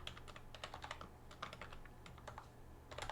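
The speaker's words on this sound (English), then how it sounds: "type in our password." Rapid, light clicks of a password being typed on a computer keyboard, a quick irregular burst of keystrokes close by and faint, with no talking.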